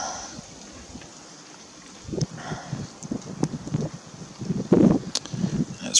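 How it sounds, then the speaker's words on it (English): Gusty wind buffets the microphone outdoors on a red deer hunting trip, with low rumbling bursts, growing stronger and more blustery in the second half, with no talking. "It's pretty windy, blustery conditions"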